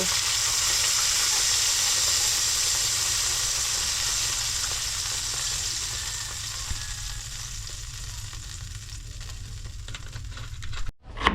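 Sprite poured into a pan of sizzling lobster, with a steady loud hissing sizzle that slowly fades and quiets toward the end, with no talk.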